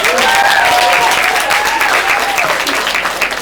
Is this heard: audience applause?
yes